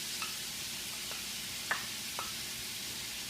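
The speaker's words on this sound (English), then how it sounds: "we're going to add our delicious seasoning mix to the pan." Seasoning mix tipped into a pan of frying vegetables, a steady soft sizzle with a few faint scrapes and stirring clinks, no talking.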